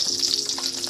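Fish frying in a pan, a bright continuous sizzle and crackle close up, with a few soft pops and no voices.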